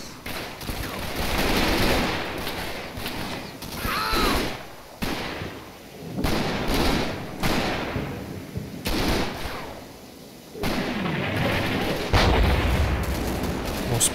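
Sustained gunfire and artillery fire from the Combat Mission video game, set in France in September 1944, with dense fusillades, machine-gun bursts and heavy booms of spotting rounds in a loud, continuous battle soundscape.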